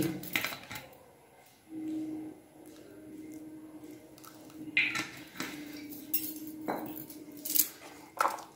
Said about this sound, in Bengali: আবার খুব ভালো করে এটাকে মিশিয়ে নিচ্ছি তেলটা দেওয়ার পরে